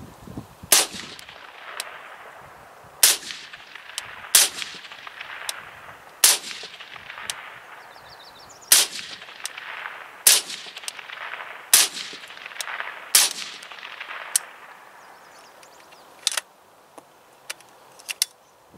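Sharp gunshots from 1884 Trapdoor rifles firing .45-70 cartridges ring out outdoors, about a dozen loud cracks spaced irregularly a second or two apart, each followed by a fading echo, with fainter shots from other shooters between them.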